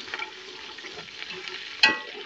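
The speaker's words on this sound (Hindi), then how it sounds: "मैं ऐड कर दी प्याज" Onion frying in hot ghee in a pan, a soft steady sizzle throughout with one brief sharper clatter near the end, and no talking.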